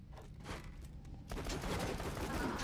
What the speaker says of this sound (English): Jakobs pistol action.